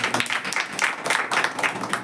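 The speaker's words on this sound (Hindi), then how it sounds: "ताली मारो" A church congregation clapping hands during a Hindi-language sermon, many overlapping claps in a loose rhythmic patter, fairly close and steady throughout.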